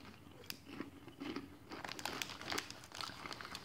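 Someone eats crunchy Cheetos-flavored popcorn up close, with crisp crunching and chewing mixed with papery crinkling of the bag in irregular bursts.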